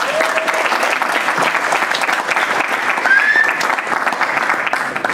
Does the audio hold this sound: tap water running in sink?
no